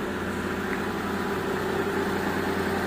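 Mitsubishi Galant VR6 engine idling steadily in a workshop, a continuous even hum with a low throb, close and moderately loud, no talk.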